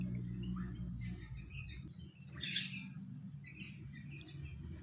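Birds of about 25 pairs of various species, sizes and endemic kinds in an aviary give faint, scattered chirps over a steady insect-like hum and low background rumble, with one brief louder burst of calls midway.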